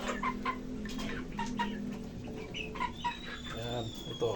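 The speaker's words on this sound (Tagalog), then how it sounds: "Malaking manok." A large chicken clucks repeatedly close by on a farm, its short, rhythmic calls mixed with faint background noise.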